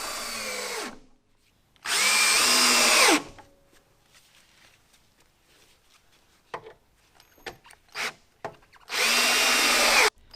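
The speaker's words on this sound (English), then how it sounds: "Next, I used some self-tapping screws to hold the aluminum piece to the framing." A power drill drives self-tapping screws through an aluminum panel into the framing in a metal workshop, three loud whining bursts of about a second each. Between them come quieter clicks and handling knocks.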